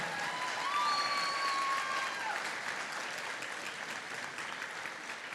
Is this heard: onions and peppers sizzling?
no